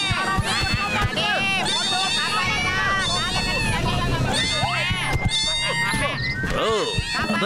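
Angry cartoon cats yowling and meowing in a Motu Patlu animated episode, loud rising and falling cries layered over a busy soundtrack of music and chatter, several overlapping calls throughout.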